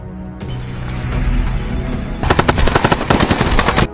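Gunfire from a film attack on enemies, with a burst of loud, rapid automatic fire crackling in a fast rhythm after a sustained roaring, hissing sound, close and intense.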